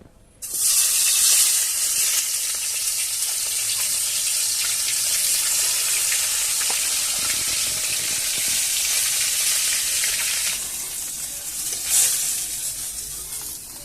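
Snakehead (shol) fish sizzling in hot oil in a heated wok, a loud, steady, hissing fry that holds for over ten seconds before easing slightly near the end.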